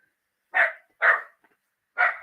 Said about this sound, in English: they're just barking to be barking